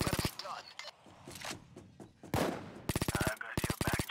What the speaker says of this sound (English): Neighbors must have heard gunshots.